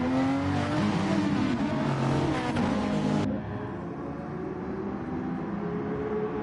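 Race cars roar away together at the start of the second race of a drift-style event, a dense, loud wall of revving engines and tire noise that drops to a steadier, slightly quieter drone partway through.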